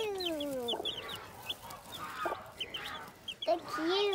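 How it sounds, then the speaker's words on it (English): A mother hen clucking softly among her young chicks, short low clucks spaced irregularly while the chicks cheep in quick high peeps, close and clear. "Let's have a look at these chicks."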